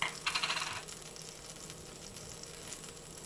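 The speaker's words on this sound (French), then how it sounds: "Donc là, je fais fondre le beurre." Butter melting in a pan for a homemade tomato sauce, a faint, close sizzle with a few quick rattling clinks at the start, then a soft steady crackle.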